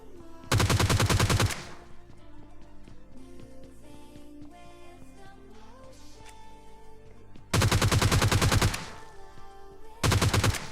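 Gunfire from the PUBG Lite battle royale game, three loud bursts of rapid automatic shots near the start, middle and end, with quieter in-game background sound between them and no talking.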